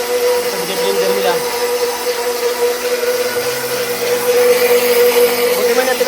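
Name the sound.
blender running to prepare food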